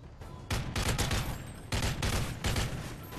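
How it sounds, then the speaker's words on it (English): Rapid bursts of automatic gunfire ring out in the video game Modern Warfare 3, two dense volleys of loud, close shooting separated by a short pause. "I'm just getting constantly shot"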